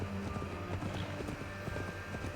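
Horse hooves clip-clopping in the video game Assassin's Creed Valhalla, a quick steady trotting beat of soft hoof strikes over a low game ambience and music bed, fairly quiet.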